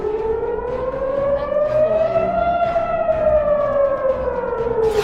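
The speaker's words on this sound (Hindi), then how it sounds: "जब आसमान में ईरान की मिसाइल नजर आती है तो इजराइल में सायरन बजने लगता है" A single air raid siren in Israel wails steadily during an Iranian missile attack, its pitch slowly rising and then falling, loud and sustained with no other sounds.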